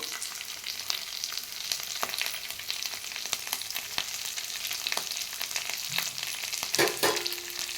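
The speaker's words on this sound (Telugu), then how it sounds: "అలాగే వెల్లుల్లిపాయలు మొత్తం అన్నీ కలిపి ఫ్రై చేసుకోవాలండి మొత్తం వేసుకున్నాను కదా అలానే కొంచెం కరివేపాకండి" Garlic and curry leaves frying in a pan, a continuous fizzing sizzle with small crackles and occasional stirring scrapes, close and moderately quiet.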